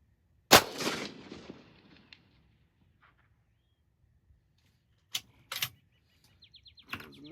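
A single sharp rifle shot fired with Hornady 165 gr CX ammunition at an outdoor range, loud and close with a brief rolling echo, followed by quiet and a few faint clicks and bird chirps.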